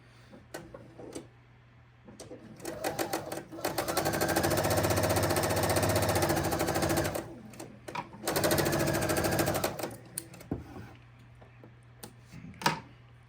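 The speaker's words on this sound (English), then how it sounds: "I'm going to sew on the other triangle" A sewing machine stitches a quilt triangle in rapid, close mechanical bursts, one long run and then a second after a short pause, with scattered ticks and clicks between.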